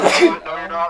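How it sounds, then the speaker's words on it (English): A person sneezes once, close and loud, and another voice speaks right after. "I sneezed."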